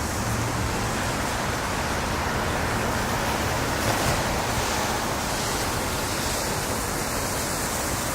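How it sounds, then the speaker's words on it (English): Water fountains outside the Seagram Building on Park Avenue, New York, a dense, even rush of falling and splashing water, loud and unbroken throughout, with no voices. "Beautiful fountains at the Seagram building on Park Avenue."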